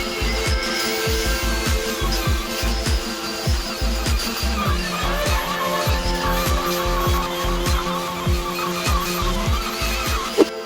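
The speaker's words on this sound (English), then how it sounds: "This is also where I rounded all those chamfered edges with my belt sander as well." A belt sander rounds the chamfered edges of a 2x4 wood sofa, with a loud continuous abrasive whir and rapid repeated bumping strokes as the belt works along the lumber.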